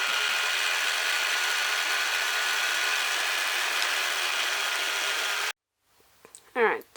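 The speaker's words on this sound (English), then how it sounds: "We have ran out of bobbin, so we're just winding one up." A sewing machine winds a bobbin with a steady, even mechanical whir that runs for several seconds and then cuts off abruptly. A voice follows briefly.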